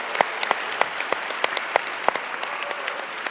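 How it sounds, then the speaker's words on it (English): Conference audience applauds at a national student pro-life convention, a sustained bed of clapping with a few sharp, close individual claps standing out at irregular intervals. "give them a round of applause"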